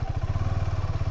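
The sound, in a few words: motorcycle being moved aside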